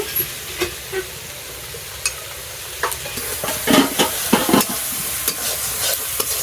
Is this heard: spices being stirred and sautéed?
yes